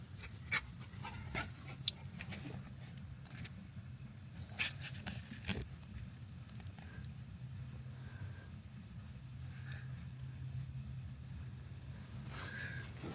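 An excited dog panting and whimpering at night in a backyard, soft rhythmic panting with a few sharp whines and clicks, fairly faint over a low steady hum.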